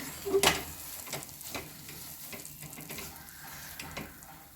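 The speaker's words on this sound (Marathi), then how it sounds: "आपल्याला हे सतत हलवत राहायचं आहे अशा पद्धतीनं व्यवस्थित आपल्याला हलवून घ्यायचं आहे" Moong dal halwa stirred continuously in a pan, a quiet steady scraping with faint sizzling and soft spoon strokes repeating under a low background hiss.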